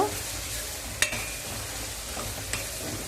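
Masala frying in oil for a mango fish curry sizzles steadily up close, with two sharp clinks of a stirring spoon against the pan over the constant hiss.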